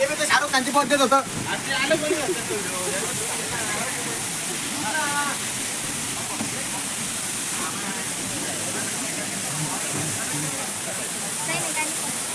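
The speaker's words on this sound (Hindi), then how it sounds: "ये एकदम फर्स्ट क्लास झरना यहाँ पे बन गया है" Rain-fed waterfall near a bridge at the Ellora caves, a steady broad rush of falling water filling the scene throughout, with a person talking over it.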